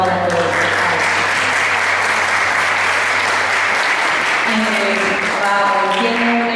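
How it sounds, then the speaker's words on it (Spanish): Audience applause at a school entrepreneurship event, loud, dense and continuous clapping throughout with faint tonal sounds underneath. "Muchas gracias, un aplauso para todos."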